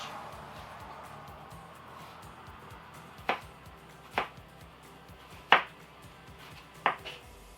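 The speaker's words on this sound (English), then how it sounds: "So you're going to thinly slice your apples" A knife thinly slices apples, giving four crisp, separate cuts spaced about a second apart. Each cut is close and sharp over a quiet, faintly humming room.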